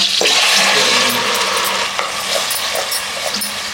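Ground masala paste frying in hot oil for chicken biryani, a steady close sizzle and crackle with occasional stirring scrapes, with no talking.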